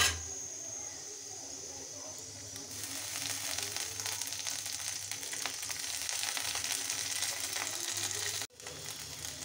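Ginger-garlic paste sizzles loudly in hot oil with fried onions, a steady broadband crackle that swells after a few seconds and runs continuously, briefly cut near the end before resuming.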